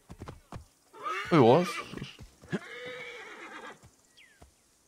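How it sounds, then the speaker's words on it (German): A horse in the video game Assassin's Creed Origins gives a loud whinny with clip-clop hooves, while someone speaks briefly before and after. "Ach, da kommt unser Pferd, ja."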